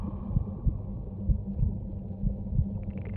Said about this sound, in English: Kind of sounds like an underwater heartbeat.